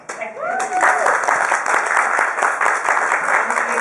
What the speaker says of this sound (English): Let's have a warm of applause for everybody who participated in the table topics.